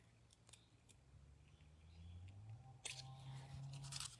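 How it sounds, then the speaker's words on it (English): Sharp craft snips cutting through paper, snipping with crisp clipped cuts, a louder cluster of crunchy snips near the end, close up over a low steady hum. "move your paper and keep your scissors straight"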